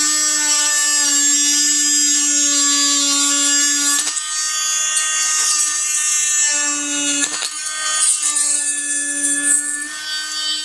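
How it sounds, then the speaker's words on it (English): An oscillating multi-tool cuts a part off while installing HomeLink in a 2024 Tesla Model 3 Highland: a loud, steady high-pitched buzzing whine, held close for several seconds, briefly broken and restarted, with no talk. "All right, so I got a multi-tool. I'm basically cutting this off."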